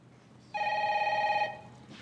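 A telephone bell gives a single steady electronic ring of about one second, fairly clear against a quiet indoor room.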